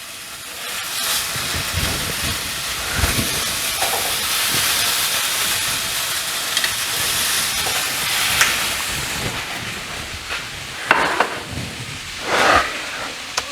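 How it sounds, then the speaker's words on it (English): Continuous loud sizzling hiss of chicken frying in a hot pan, with occasional pops and crackles growing sharper toward the end. "Oh, listen to that sizzle."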